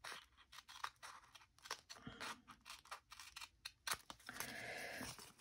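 Scissors cutting paper for a vintage scrapbook page: quick repeated snips and crisp crunching cuts in a steady run, close and moderately loud, with a longer scraping cut near the end.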